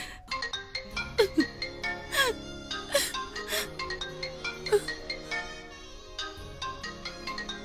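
A mobile phone ringtone plays as a melodic electronic tune with repeated tonal notes, moderately quiet, with brief vocal sounds and background noise mixed in.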